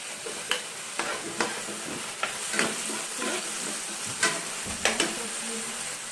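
Beans and carrot sizzle steadily in a hot pan while being stir-fried. A spatula scrapes and taps the pan in a loose, repeated rhythm over the constant frying hiss, close and clear.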